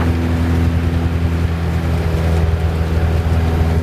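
A Robin DR400 160 hp light aircraft engine drones at full power in flight, a loud, steady, throbbing propeller roar heard from inside the cabin, with no talk.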